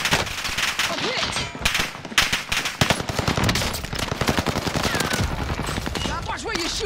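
Dense bursts of automatic gunfire fill a Call of Duty: Modern Warfare battle, with rapid rattling volleys and sharp single shots overlapping continuously, and voices faintly calling out under the shooting.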